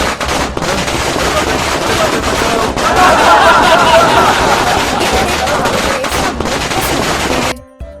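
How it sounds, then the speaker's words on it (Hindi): Dense, continuous crackling bursts of Diwali firecrackers going off rapidly and loudly for several seconds in a cartoon, with a babble of voices mixed in, ending abruptly. "रोबोट चुपके से डब्बू के पीछे पटाखे उड़ाता"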